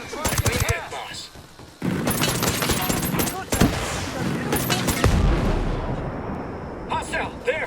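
Automatic rifles fire in a close-range firefight in Ghost Recon Breakpoint, sharp, dense bursts with heavy impacts and a deep boom, loud throughout, with shouted voices breaking in between.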